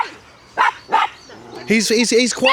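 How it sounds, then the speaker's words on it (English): A lively spaniel, about 21 months old, gives a couple of sharp barks outdoors on a boggy walk, with people chatting nearby and their voices overlapping the dog. "Very lively spaniel."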